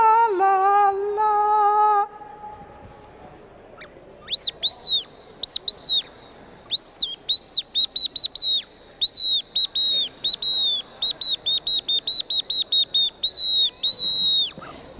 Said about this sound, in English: Whoa, that was Mrs. Bluebird.